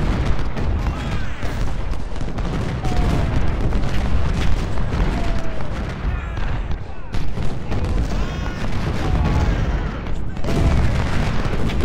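Cannon and rifle fire in the Civil War strategy game Ultimate General: Civil War at the battle of Fredericksburg, a dense, continuous barrage of booms and crackling gunfire, loud and unbroken, with brief dips.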